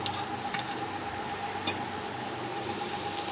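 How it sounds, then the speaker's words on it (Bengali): Spices, including a ginger, cumin and coriander paste, are stirred in a pan for a rohu fish curry, with a soft continuous sizzle and the occasional faint scrape, close and steady without voices. "সব মশলা একসাথে ভালোভাবে নাড়াতে থাকবো"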